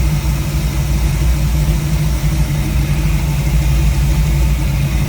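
A 1932 Ford Roadster engine idles smoothly and steadily, a deep even rumble holding at constant loudness throughout with no revving.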